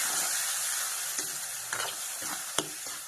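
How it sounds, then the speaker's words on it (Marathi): Tomatoes, turmeric, red chili powder and salt go into a hot pan, which hisses with a constant sizzle while a few sharp stirring clinks and scrapes sound up close. "चला आता टाकून घेते मी मस्त लाल बुंद टमाटर हळदी लाल तिखट आणि नमक"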